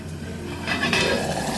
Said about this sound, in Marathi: आता झाकण ठेवते आणि मंद आचेवर शिजू देते